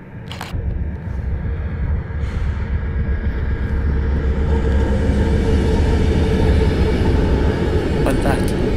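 Train passing near the Don Valley, a steady heavy low rumble and rolling rail noise that holds loud throughout, with a couple of brief higher clicks or squeals over it.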